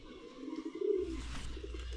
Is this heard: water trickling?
no